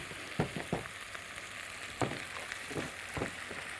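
Onions fry steadily in a pan, cooked slowly without butter, giving a constant close sizzle broken by a few sharp spatula stirs and scrapes.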